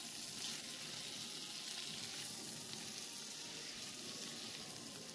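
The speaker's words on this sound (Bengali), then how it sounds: "লাউ শাকটা দেওয়ার পর আমি একটু ভাজবো" Bottle gourd greens frying in oil for a split-pea dal give off a steady, close sizzle, a continuous bright hiss with faint stirring underneath.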